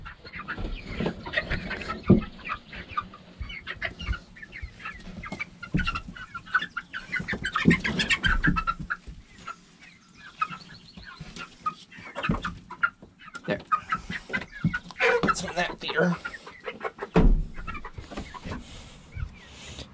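Young chickens cluck and squawk inside a small backyard coop, the calls close and irregular, coming in scattered bursts with short quiet gaps between them.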